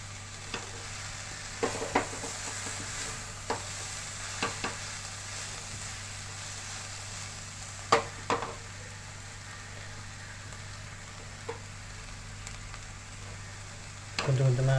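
Vegetable noodles being added and stir-fried in a pan, a steady close sizzle broken by scattered clinks and scrapes of the utensil, with a louder burst near the end.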